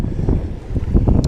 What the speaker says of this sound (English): it's just so windy, it's hard to talk